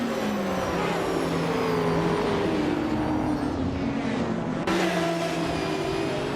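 A 1994 Bugatti EB 110LM supercar pulls away from the start of a race, its engine droning loudly and continuously with pitch shifting as it accelerates, other racing engines layered alongside.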